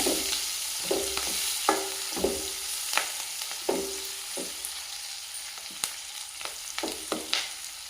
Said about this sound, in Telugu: పచ్చిమిరపకాయలు బాగా ఫ్రై చేసుకోవాలి